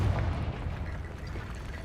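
A Confringo explosion spell cast in Hogwarts Legacy, heard as a sustained, rumbling blast of noise that stays fairly even and slowly fades at moderate loudness.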